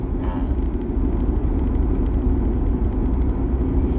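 Steady low engine rumble and road drone fill the interior of a moving car, continuous and fairly loud with no talk.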